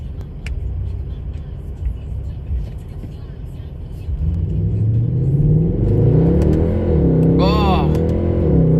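A Mercedes C63 AMG engine runs at a steady hum, then swells into a louder, rising acceleration roar that holds strong to the end. Someone talks over it throughout.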